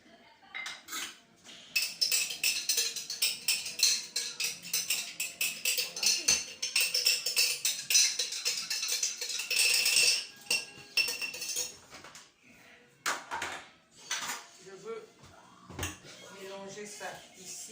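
A spoon clinks and scrapes against a pan while braised salmon with peas is stirred, with bursts of metallic clatter and rattling. A person talks over and between the stirring.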